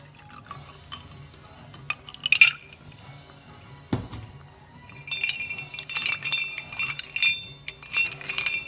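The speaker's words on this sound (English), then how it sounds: "So now we're gonna put a couple ice cubes" Ice cubes drop into a glass of absinthe with bright clinks and rattles, a thud, then a run of close, clear tinkling as the cubes settle.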